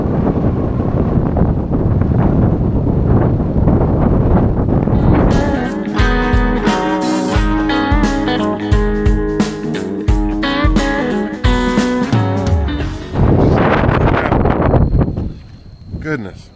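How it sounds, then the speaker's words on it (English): Strong wind buffets outdoors in a cotton field, roaring steadily into the microphone for most of the stretch before easing near the end. "I'll just wait for this wind to die down a little bit."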